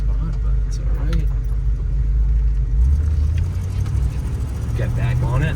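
A 1991 Jeep Grand Wagoneer driving and turning around, a steady low engine rumble and road noise from inside the cabin, with rattling and a brief shift in engine tone midway.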